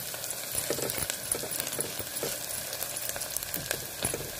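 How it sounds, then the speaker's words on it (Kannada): Onions frying in hot tempering oil, a close continuous crackling sizzle with light stirring scrapes throughout, no voices. "ಈರುಳ್ಳಿನ ಒಂದು ಸ್ವಲ್ಪ ಚೆನ್ನಾಗಿ ಕೆಂಪು ಮಾಡ್ಕೊಳ್ಳೋಣ"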